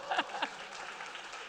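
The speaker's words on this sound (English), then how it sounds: "Round of applause for her supporting you like that" Audience applause at a university capstone presentation session, a short burst of clapping that starts with a couple of sharper swells and then settles into a steady patter.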